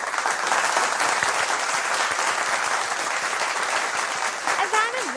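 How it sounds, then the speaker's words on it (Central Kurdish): Audience applause fills a Kurdish television show, a dense, sustained clapping from a crowd that stays loud and steady throughout, with a brief voice near the end. "کوا چەپڵەکانتان"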